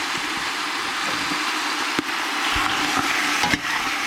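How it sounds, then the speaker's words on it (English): Bacon sizzles steadily in a pan with a constant crackling hiss, a low engine-like hum underneath and a few soft clicks and thumps. "So you hear our bacon sizzling away here."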